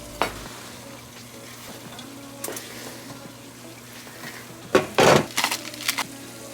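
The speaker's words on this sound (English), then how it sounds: "Stir to combine and let it sit until liquids rises" Ground meat and vegetables in a pot, stirred with a utensil: a low steady sizzle with scattered scrapes and clinks, and a burst of louder scraping stirs near the end.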